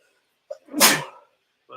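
A single loud, close sneeze bursts out and fades within about half a second, with a brief bit of speech just before and after it.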